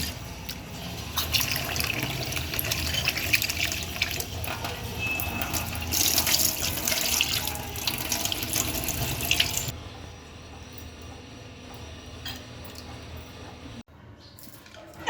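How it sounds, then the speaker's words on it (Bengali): About 250 grams of prawns are rinsed under a running kitchen tap, a loud, steady splashing rush that softens partway through and then cuts off near the end. "ওদিকে ২৫০ গ্রাম বা ১ পোয়া এই সাইজের চিংড়ি বেছে নিয়েছি, সেগুলোকে ধুয়ে নিচ্ছি"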